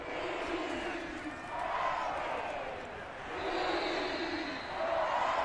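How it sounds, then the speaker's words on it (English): A Carolina stadium crowd in Madden 22 chants in rolling swells, a dense roar rising and falling roughly every two seconds across the playoff game. "Is that what the Carolina crowd is chanting right now, is defense?"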